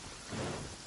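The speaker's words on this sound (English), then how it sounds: "And it is raining." Rain falling in the video game Genshin Impact, a brief, faint wash of steady rainfall with a low rumble swelling midway.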